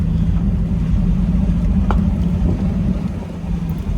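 A 1989 Mercedes-Benz 560SL R107 with its 5.6-liter engine cruises down the road, giving a steady low rumble of engine and road noise that holds close and loud throughout, with no talking.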